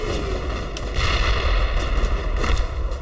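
A high explosive grenade goes off in the Mass Effect video game, a dense, booming blast with rumbling low end and a few sharp crackling bursts, loud and continuous for about three seconds.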